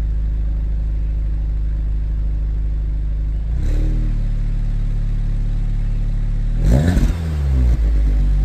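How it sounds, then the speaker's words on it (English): Audi S3 hot hatch with a 2-litre engine and quad exhausts idles with a deep burble, then blips the throttle in two sharp revs, the second louder and longer. "So let's turn it on, give it some revs and see what you think."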